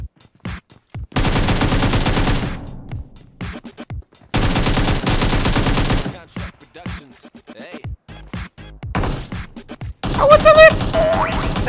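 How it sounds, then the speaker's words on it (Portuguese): Heavy machine gun in the mobile battle-royale game PUBG Mobile fires in several long, loud sustained bursts separated by short pauses and isolated single shots, with brief interjections from a player between the bursts. "Heavy Machine Gun."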